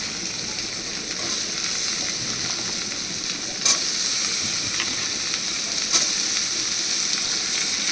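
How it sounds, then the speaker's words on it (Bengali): Potatoes frying in fish oil in a pan, a steady loud sizzle and hiss throughout with a couple of brief stirring clatters, close up and without talk. "এবার আমি এর মধ্যে দিয়ে দিচ্ছি আলুগুলো"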